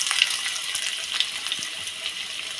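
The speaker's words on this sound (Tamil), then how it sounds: "இப்போ எண்ணெய் காஞ்சதும் இதில் நம்ம எடுத்து வச்சுருக்கிற பட்டை, லவங்கம், ஏலக்காய், இப்போ இதிலேயே சின்ன வெங்காயத்தை சேர்த்துக்கோங்க" Cinnamon, cloves, cardamom and small shallots sizzling in hot oil, a steady close crackling hiss with scattered pops and a few light stirring scrapes, no voices.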